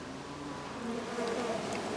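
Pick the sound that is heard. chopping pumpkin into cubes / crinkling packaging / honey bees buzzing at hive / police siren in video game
honey bees buzzing at hive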